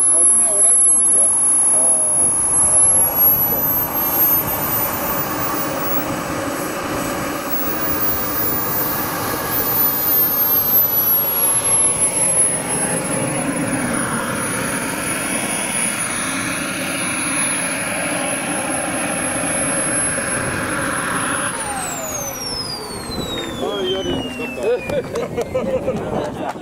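A radio-controlled jet airplane bought online roars and whines as it flies, a sustained loud engine sound with passing swells and a falling pitch sweep near the end, while people talk nearby.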